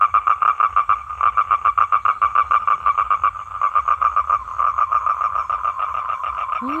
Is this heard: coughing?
no